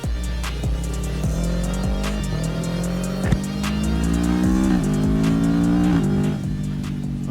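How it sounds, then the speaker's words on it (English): A 2025 Yamaha R3 motorcycle with a Yoshimura AT2 full exhaust accelerates through the gears on the road, revving up repeatedly with quick shifts, its raspy engine note loud and close. "You might be able to hear it right now, but we did install a full Yoshimura AT2 full exhaust."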